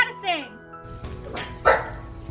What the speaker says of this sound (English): let's see if we can get through this without them barking